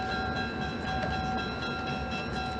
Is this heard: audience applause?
no